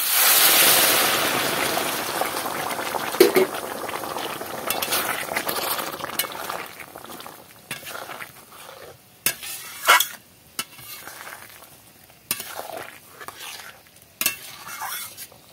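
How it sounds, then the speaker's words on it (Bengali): Water rushes into a hot pan of Bengali-style fish roe curry with a loud hissing burst, then fades to a softer simmer broken by occasional clinks and scrapes of a spoon against the pan. "এবার আমি জল দিয়ে দিচ্ছি"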